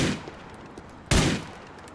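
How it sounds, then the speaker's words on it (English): A single sharp gunshot bullet impact for a headshot in GTA 4, a loud close burst in the middle, preceded by a softer shot and faint scattered clicks. "I really love the gun impact, the bullet impact, how it adds in."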